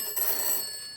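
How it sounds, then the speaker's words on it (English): A telephone bell rings steadily in an indoor sitcom setting, a bright continuous trill at moderate level filling the whole moment with no talk over it. "Would you like me to put this tray down and answer the phone?"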